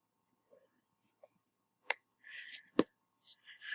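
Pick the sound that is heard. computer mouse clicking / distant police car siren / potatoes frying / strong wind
computer mouse clicking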